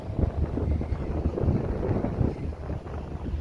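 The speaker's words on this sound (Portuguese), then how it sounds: "Desculpa o vento aí, jovem. Está ventando um pouquinho aqui" Wind blowing outdoors beside a truck, a loud steady buffeting rumble battering the microphone with gusty low-frequency roar throughout, with no clear speech.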